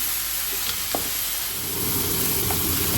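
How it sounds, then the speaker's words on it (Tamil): Tomatoes and tamarind sautéing in a pan for a prawn curry give a steady, close frying sizzle with faint stirring scrapes throughout and no talking. "அதையும் போட்டு ஒரு மிக்ஸ் பண்ணுவோம். நல்லா வதங்கி வரட்டுது."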